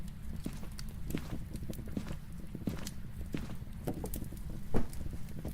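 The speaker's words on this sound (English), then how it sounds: "I swear I keep hearing footsteps." Faint, irregular footsteps in the Phasmophobia ghost-hunting game, a soft patter of light taps scattered over a constant low background hum, with no talking.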